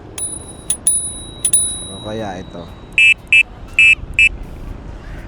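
A person speaks briefly, then the horn of a Motur Punk Base electric scooter sounds four short, sharp electronic beeps in quick succession, close and loud.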